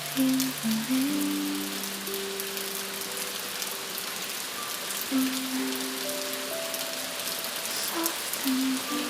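Calm, steady rain falls in a soft, even hiss, with gentle sustained melodic tones drifting over it throughout.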